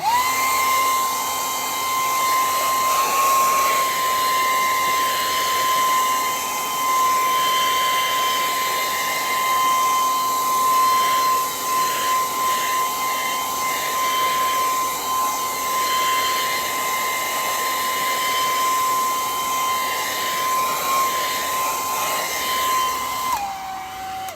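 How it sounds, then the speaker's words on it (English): A hair dryer blowing acrylic paint dry on a painted tree canvas, a steady whining hum held close and loud for over twenty seconds before it shifts pitch at the end. "Okay, so I'm gonna blow that dry"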